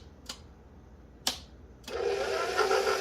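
A stand mixer mixing sourdough pizza dough on a low setting: two faint clicks, then the motor starts and runs with a steady whirring hum, close by.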